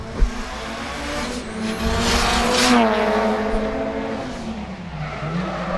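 A 400-horsepower drift car on a qualifying run in Sochi squeals its tyres in a long, loud skid over a roaring engine that rises and falls as it slides close by.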